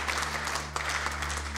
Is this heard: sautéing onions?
no